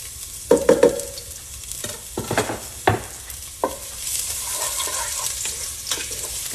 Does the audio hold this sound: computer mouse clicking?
no